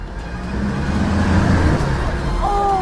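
A car drives off-road through water and mud and drifts near Çanakkale, with a rumbling engine and splashing, sloshing wash that swells in the middle, heard from inside the car, loud and close.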